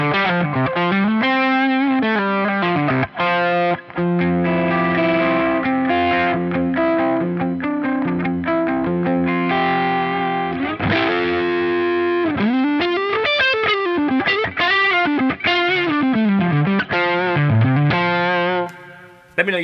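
An electric guitar played through a Tube Driver overdrive pedal, loud and distorted, with sustained bent notes and melodic runs ringing on steadily alone for about twenty seconds before cutting off.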